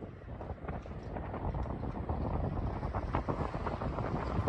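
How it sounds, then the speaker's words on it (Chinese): Strong wind blows steadily by the Red River bridge in Vietnam, a dense broadband rush buffeting the microphone with gusting rumble, no clear voices. "哇，风很大呀，风很大。"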